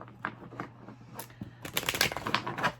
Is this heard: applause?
no